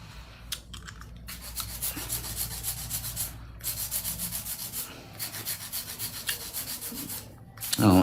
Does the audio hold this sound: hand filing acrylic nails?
yes